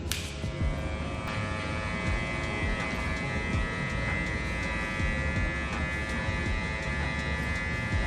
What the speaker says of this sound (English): Now I'm using just a corner of the clipper.